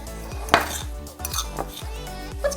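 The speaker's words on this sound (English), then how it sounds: "Mix up the dry first." Dry seasoning ingredients are stirred together in a bowl, heard as close clinking and scraping of a utensil against the dish in quick irregular strokes.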